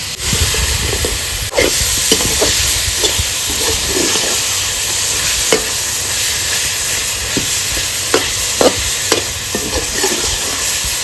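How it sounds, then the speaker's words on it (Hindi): A milk-based boli mixture being roasted and stirred in a pan, a loud continuous sizzle and hiss with intermittent scraping clicks of the spoon against the pan. "मजीद 2 से 3 मिनट और इसकी भुनाई कर लेते हैं"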